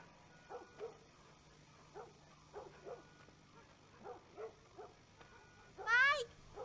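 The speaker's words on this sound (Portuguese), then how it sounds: "Dá pra escutar os cachorros latindo." Dogs bark repeatedly at a distance in the video game The Last of Us, short scattered barks and yips spread evenly across a quiet background, ending in a louder whining bark.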